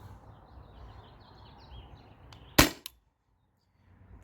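A modified Valken M17 paintball marker on 700 PSI HPA fires an alien play ball: a single sharp, loud pop with a quick second crack, standing out from quiet outdoor background hiss, then near silence.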